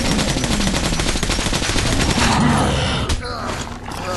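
Rapid, loud gunfire from the video game Metro 2033 rattles in dense continuous bursts, then gives way to a few scattered shots and a short lull.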